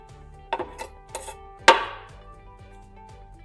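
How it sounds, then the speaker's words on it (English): A spoon knocks and scrapes against a pot while turkey meat is mixed into black-eyed peas, giving a few sharp close clinks and one louder ringing clank over a low steady hum. "Okay, we're going to give it a stir."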